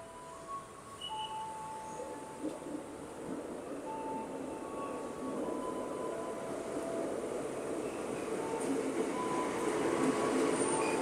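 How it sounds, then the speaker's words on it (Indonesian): A KRL commuter train bound for Kampung Bandan pulls into Sudirman station, its steady rumble swelling toward the end with faint metallic squeals and whines drifting over the rolling noise. "KRL komuter lain jurusan Kampung Bandan telah tiba di stasiun Sudirman"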